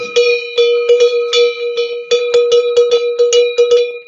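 A cowbell with a wooden clapper is shaken close by, giving a series of loud, bright, irregular clanks with short pauses and no talking.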